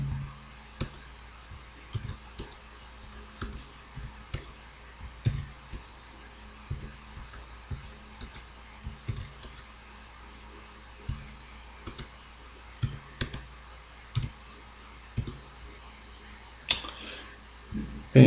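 Rapid, uneven clicking of computer keys as an equation is typed into GeoGebra, with close, sharp taps arriving in short bursts and brief pauses over a quiet room background.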